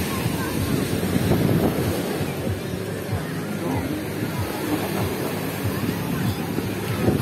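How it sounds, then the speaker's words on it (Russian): Strong wind buffets the microphone over steady crashing surf on Luzanovka beach in Odesa on the Black Sea, a continuous loud roar with a murmur of voices underneath. "сильнейший такой у нас ветерок"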